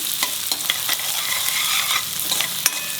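Chopped onions sizzle and fry in hot oil in a pan while a spoon stirs them, giving a constant crackling hiss broken by repeated close scraping clicks.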